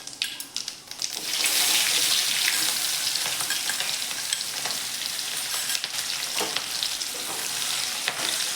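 Onion dropped into hot oil with mustard seeds and cumin in a kadai, bursting into a loud, dense, steady sizzle after a brief quieter start, with occasional stirring scrapes.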